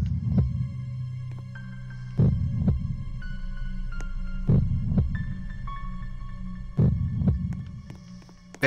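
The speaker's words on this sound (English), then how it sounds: "I don't like this heartbeat, it's really making me uneasy." Deep, throbbing heartbeat effect from the video game Black Death, a low pulse looping steadily under a sustained hum with thin tonal layers, with heavier thumps recurring every couple of seconds.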